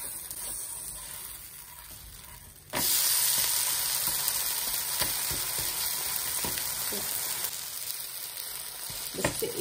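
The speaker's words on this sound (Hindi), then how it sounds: "और अभी डालेंगे उस ऊपर से तेल। हम लोग इसको पलटा कर ऊपर की साइड से भी पका लेंगे।" Tomato uttapam cooking in oil on a hot pan, a steady close sizzle that jumps louder partway through as more oil goes in, with scattered scraping taps of a spatula.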